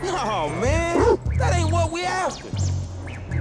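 A dog in GTA 5, Chop, lets out a series of yelping barks and whimpering whines, loud and close, mixed with a voice talking.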